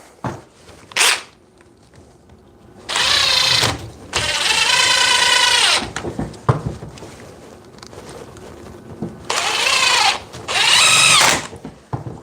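DeWalt 60 volt cordless reciprocating saw cutting in three loud buzzing bursts of a couple of seconds each, the motor revving up and settling between cuts, close to the listener.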